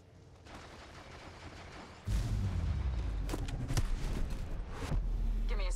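Gunfire in Apex Legends Mobile, a dense burst of shots and booming impacts beginning abruptly after a quieter stretch and continuing loud and close, with a few sharp cracks standing out.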